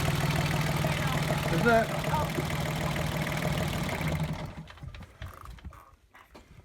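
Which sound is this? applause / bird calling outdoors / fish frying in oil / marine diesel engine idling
marine diesel engine idling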